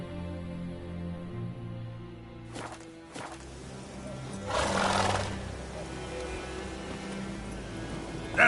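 The horse Roach is ridden in the video game The Witcher 3: Wild Hunt, with hoof movement and a loud snort or whinny swelling midway over a sustained orchestral game score.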